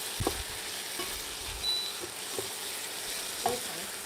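Onions caramelizing with honey in a pan give a soft, fairly quiet sizzle with a few light stirring taps and scrapes over a few seconds.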